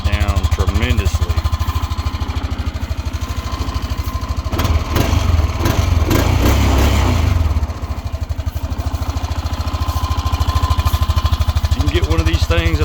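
Honda Rancher ATV engine fitted with a quiet stick muffler silencer, running steadily with a low, muffled drone that swells louder in the middle before settling back to an even idle.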